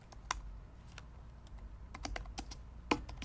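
Clicky keystrokes on a computer keyboard as a copyright note is typed, irregular taps close by in a quiet room.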